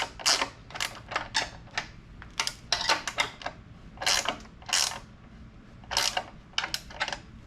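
A wrench snugs up a nylock bolt on a Mittler Brothers bead roller table, giving a run of close, sharp ratcheting clicks and metal creaks in short irregular bursts, with no talking.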